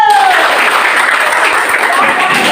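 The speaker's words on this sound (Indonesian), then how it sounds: "Oke, tepuk tangan dulu." Loud, dense applause from a group of schoolchildren clapping together in a classroom, steady and continuous throughout without any talking.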